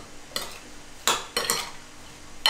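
Stirring a cucumber and mango salad with brown sugar: a few separate clinks and scrapes of a utensil against a bowl, close and fairly quiet, coming in short bursts with pauses between them.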